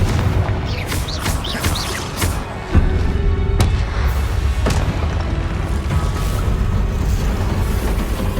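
The Confringo fire-blast spell in Hogwarts Legacy bursts out as loud, deep booms amid crackling magical whooshes and sharp cracks, with a heavy thud midway followed by a sustained rumbling roar.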